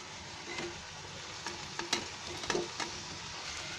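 Fried cabbage Manchurian fritters are stirred in a pan over steady oil sizzle, with a handful of scraping, clinking spoon strokes scattered irregularly through it, close and moderately quiet, no voices.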